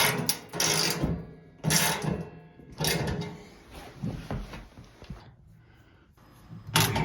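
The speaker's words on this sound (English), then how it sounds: "Here I am tightening the bolts up inside the stand." A wrench tightens carriage bolts inside the metal stand of a maple sap evaporator, making close, repeated ratcheting and clanking bursts separated by short pauses.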